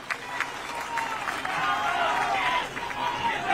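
A large rally crowd in Chhattisgarh welcomes Deputy Chief Minister T.S. Singh Deo with dense, sustained applause and a busy crowd murmur that builds slightly toward the end.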